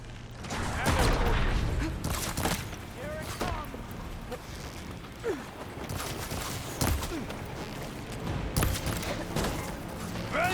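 Repeated bursts of enemy gunfire in a combat video game rattle at moderate loudness across the clip, with dense game action and clatter between the volleys.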